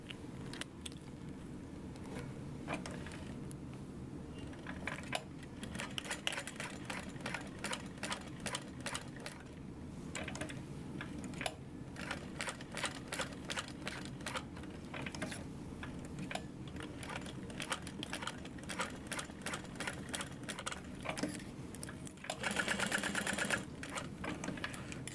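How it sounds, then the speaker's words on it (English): A sewing machine top stitches a clear vinyl sling, its needle chattering in fast, even bursts that start and stop across the stretch, fairly close and clear with no talking. "And we'll top stitch this all together."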